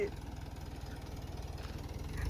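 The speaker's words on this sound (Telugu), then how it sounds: "అదిగో ట్రాక్టర్ వస్తుంది" A tractor's low diesel engine chugs in a fast, even rhythm, growing slightly louder toward the end.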